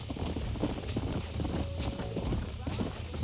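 Horse hooves clip-clop in a steady, close rhythm in the video game Red Dead Redemption, continuing throughout beneath game audio and spoken voices.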